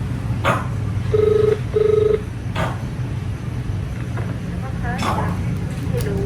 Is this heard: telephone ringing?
yes